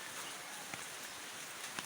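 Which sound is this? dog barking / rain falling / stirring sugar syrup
rain falling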